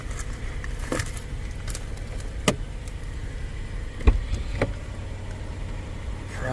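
A police auction vehicle idles steadily with a ticking lifter noise, a low continuous rumble marked by a few sharp clicks, heard fairly close.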